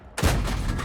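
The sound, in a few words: tank gun shot in a video game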